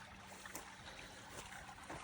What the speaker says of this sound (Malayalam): വെള്ളമാണ് ഈ ഒലിച്ചു പോകുന്നത്. ചാല്, തെളിഞ്ഞ വെള്ളം